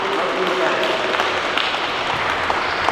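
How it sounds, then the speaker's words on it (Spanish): Applause at a church wedding celebration fills the space as a dense, steady patter of many hands, loud and continuous, with a few voices mixed in. "Un aplauso para"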